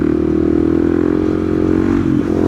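A 2020 KTM 690 SMC R single-cylinder motorcycle engine drones loud and close, holding a steady, throbbing note while riding, with a slight rise in pitch near the end.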